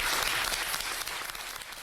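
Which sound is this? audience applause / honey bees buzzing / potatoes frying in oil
audience applause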